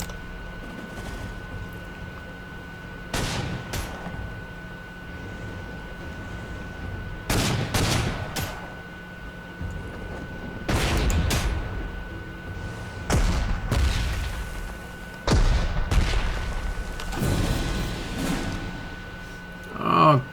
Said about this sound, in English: Let's double bomb this guy.